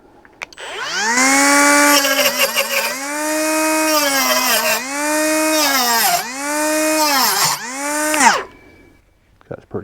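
A Hyper Tough 12V cordless cutoff tool cutting through quarter-round wood trim, its high whine dipping and recovering in four or five strained passes before spinning down, with no talk.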